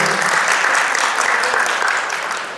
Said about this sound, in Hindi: एक बार जोरदार तालियां इनके लिए तो जरूर बनती हैं